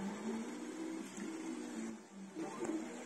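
Flashforge Finder 3 3D printer running, its hot end and print head shifting back and forth with steady whirring motor tones and faint clicks, continuous and close.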